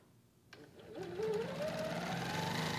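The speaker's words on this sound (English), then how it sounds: "So now when I start stitching," A sewing machine starts stitching across a quilted stripes design with its channel lock set for horizontal movement only. The motor whirs up after a few soft clicks and holds a steady, close, continuous hum.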